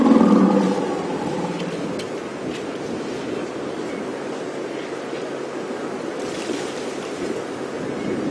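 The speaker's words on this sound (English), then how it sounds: "You hear those warning rumbles. Those are not aimed at us. They're aimed at the younger elephant that's in the group." Elephants give low warning rumbles toward a younger member of their group on a safari drive, a deep steady throbbing drone under a wash of broadband noise, with a louder rumbling burst at the start.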